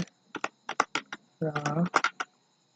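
Keys clatter on a computer keyboard in short bursts while HTML is typed, close and fairly quiet, with a speaking voice breaking in partway through.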